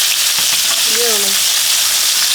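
Cornstarch-coated shrimp for bang bang shrimp sizzling loudly in hot oil in a pan, a constant dense frying hiss with brief soft clatter as pieces are flipped.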